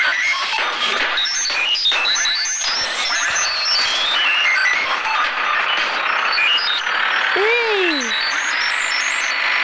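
Reversing beeps repeat over a busy Greek bus and truck din, with engine rumble, an air-brake hiss and voices chattering throughout.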